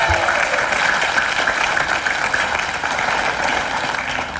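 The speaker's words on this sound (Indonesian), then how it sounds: "Tepuk tangan dong." A studio audience claps in a steady, dense wash of applause that holds at an even level throughout.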